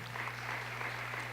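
Audience applause fills a community town hall on Chicago Public Schools, a steady, fairly faint wash of clapping with no break.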